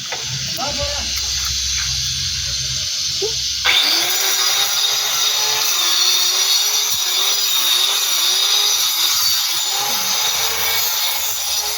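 A power cutter grinds continuously during water supply line and tank installation work, loud and close with a steady whine. A voice talks briefly at the start before the cutting takes over.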